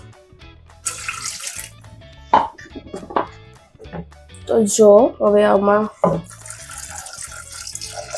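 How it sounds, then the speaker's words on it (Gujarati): Water is poured into a pot of Gujarati dal already holding salt, turmeric, green chillies and tomato. The pour is short, splashing and gurgling up in pitch, between bits of casual talk nearby. "અને હવે એમાં આપણે પાણી ભરી દઈશું થોડું."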